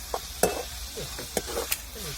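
Garlic, chillies and onion sauté in a pan, a soft sizzle broken by several sharp scrapes and clinks of a spoon stirring against the metal.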